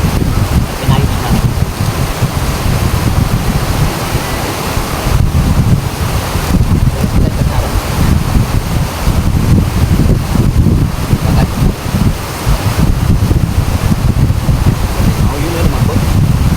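Strong wind on a rocky shore, loud constant roar and microphone buffeting blended with crashing surf, steady throughout.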